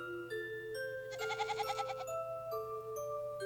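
A voice mimics a goat's bleat, a short wavering, quavering cry lasting about a second between quieter tonal sounds.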